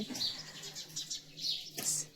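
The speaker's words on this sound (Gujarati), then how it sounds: "ચકલી બોલે છે કિલકિલાટ કરે છે" Sparrows chirp in the morning outside a family home, with quick, faint high tweets repeating in a busy cluster at moderate distance.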